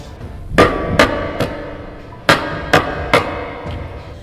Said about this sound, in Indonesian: Kali ini ketukan pintu itu lebih kencang dari sebelumnya.